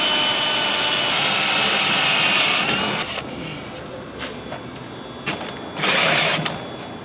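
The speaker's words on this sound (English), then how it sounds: "we're gonna start with a 1/4 inch hole and drill through" Loud whining drill boring a 1/4 inch hole through metal on a Duramax truck for a few seconds, then stopping, followed by a brief second burst of drilling and some clattering.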